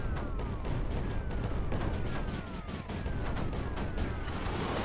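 In the Creeper World 4 video game, mortars bombard an area with a dense, continuous barrage of booming blasts and crackling impacts. Faint descending whistles cut through the steady, loud rumble.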